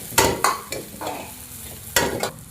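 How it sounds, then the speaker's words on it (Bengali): Chopped green chili and lightly fried garlic are stirred in a hot pan, with scraping spatula strokes over a soft continuous sizzle. The frying sounds close and moderately loud, and nobody talks. "রসুনটা আমাদের হালকা ভাজা হয়ে গেছে। এবার আমরা দেবো লঙ্কা কুচি পরিমাণ মতো"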